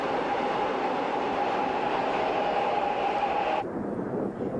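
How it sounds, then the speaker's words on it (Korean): A subway train rumbles steadily along with a constant hum and a sustained tonal whine, loud and close, then the high end drops away near the end. "움직이는 지하철 소리의 크기는 100데시벨."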